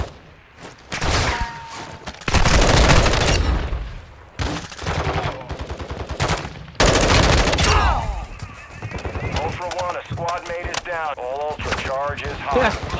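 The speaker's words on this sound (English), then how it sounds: "Taking effective fire." Repeated bursts of gunfire crack through a Call of Duty DMZ match in a city, loud rapid volleys and single shots followed by a radio-style voice and game chatter.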